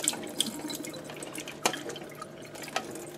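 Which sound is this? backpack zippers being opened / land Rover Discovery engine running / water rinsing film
water rinsing film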